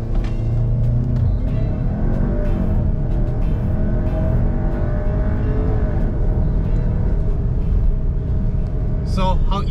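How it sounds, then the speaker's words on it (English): A Volkswagen Tiguan Allspace R-Line launches under launch control, a loud, sustained engine rumble and roar close by throughout, with voices talking over it. "we're going to try out launch control"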